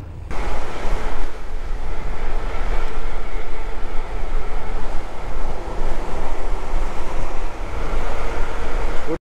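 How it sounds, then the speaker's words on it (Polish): Strong wind buffets the microphone of a delivery bike rider in the city, a loud continuous rumbling roar that surges in gusts and stops abruptly at the end. "Wiatr mnie zatrzymuje"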